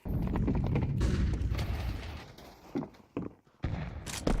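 Rapid bursts of AK rifle fire in a Counter-Strike match, loud and dense with booming reports, thinning out near the end with a few separate shots.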